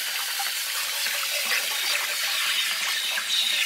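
Water gushes steadily out of an RV water heater tank being flushed, a loud continuous hissing rush with no talk.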